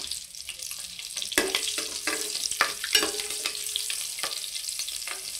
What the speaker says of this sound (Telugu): ఇప్పుడు ఇది ఆయిల్లో ఈ పచ్చిమిరకాయలు వేసుకుందాము